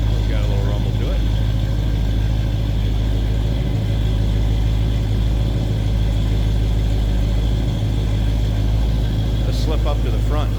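A 1955 Chevrolet 3100 pickup engine idles with a steady low rumble, continuous and close for the whole stretch, with someone talking over it.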